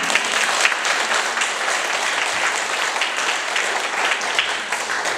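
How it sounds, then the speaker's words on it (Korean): A church congregation applauds together, dense and sustained clapping that fills the room evenly from start to finish. "한번 박수 하십니다."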